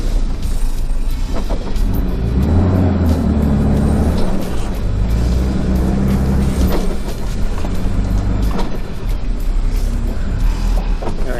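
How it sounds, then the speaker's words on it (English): A vehicle towing a trailer strains in reverse out of a soft sand hole, its engine droning loud and continuous with revving surges throughout. "See if I can reverse out of this hole."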